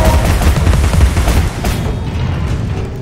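Rapid gunfire rattles out in the video game Alice: Madness Returns, a dense, loud, booming fusillade that eases off slightly partway through.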